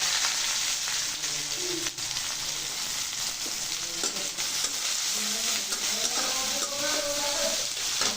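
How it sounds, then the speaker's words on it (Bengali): Onion, garlic and chili frying in oil in a pan, a dense steady sizzle up close with occasional stirring clatter, holding level throughout. "এই যে পেঁয়াজ, রসুন, মরিচ যা আছে এগুলো আমি দিয়ে ভেজে নেব"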